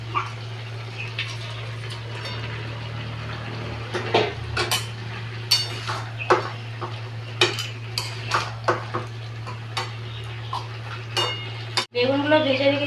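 Fried fish heads dropped into a cooking pan in a village kitchen, bringing a series of close metallic clinks and scrapes of utensil on pan over a steady low hum, with a voice talking at times.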